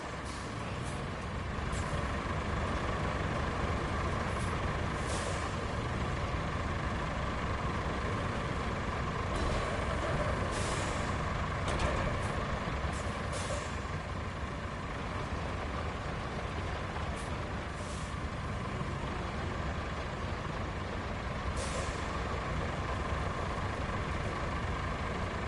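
Heavy dump truck engine rumbling steadily in the Roadcraft video game, with sharp hisses of air brakes and faint high reversing beeps scattered through the continuous drone, no talking.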